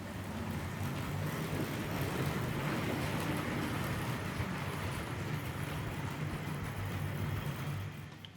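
A Tri-ang R.259 Britannia model locomotive pulling Pullman coaches around a layout, a steady continuous whirring rumble of motor and wheels on track, close and even in level throughout, no talking.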